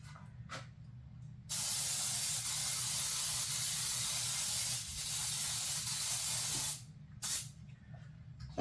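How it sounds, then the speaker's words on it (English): Cooking spray hisses into a cake pan over a sink in one long, steady close-up burst of about five seconds, then a couple of short follow-up spurts. "we got that sprayed good"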